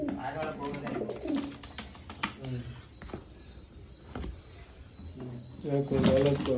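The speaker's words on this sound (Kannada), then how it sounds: "ದೇವ್ರದ್ದು ಪಾರಿವಾಳ ಕೂಗುತ್ ನೋಡು" Soft pigeon cooing in short repeated phrases, heard under and between people talking, with occasional clicks and knocks.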